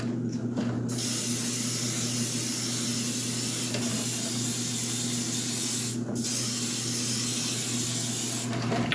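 An airbrush or spray can hisses steadily as a russet red coat is sprayed onto a large one-third scale model, with a continuous close hiss, a steady mechanical hum beneath and a few brief pauses.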